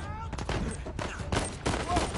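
Assault rifle fire crackles in the Uncharted 4 video game, with several dense bursts of rapid shots in quick succession, close and loud, mixed with game sound.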